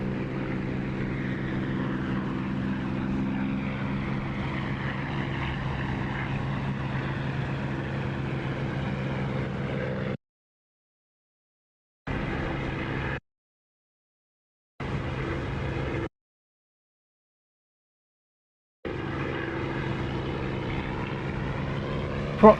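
Propeller aircraft engine droning steadily in the DCS flight simulator with the cockpit canopy open, a loud continuous hum that drops out abruptly several times before resuming, no talking.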